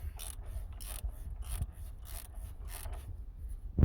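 A wrench ratchets a 2017 Land Rover Discovery TD6 diesel's oil drain plug tight in a series of short, rhythmic rasping clicks, close and fairly quiet, with no talking.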